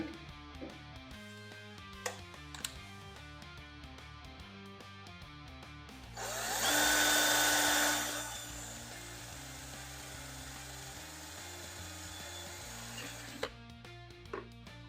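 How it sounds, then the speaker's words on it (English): A power drill whirs loudly for about two seconds while boring a hole for a DIY LED wheel light ring, then winds down under steady background music. "Let me grab my drill real quick. I'm gonna drill it real fast."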